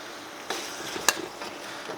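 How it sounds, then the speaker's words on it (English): Meat for chow mein fries and browns in a hot pan with a soft, steady sizzle, and a few sharp clicks and scrapes from the pan or utensil stand out. "after the meat cooks for a little bit, I'm going to turn it up just slightly"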